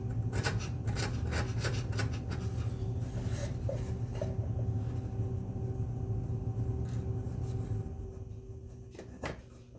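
A scraper rubs dried glue off a wooden spice rack in steady, close scratching strokes over a low background hum, fading near the end, with no talking.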